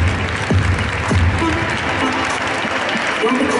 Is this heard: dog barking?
no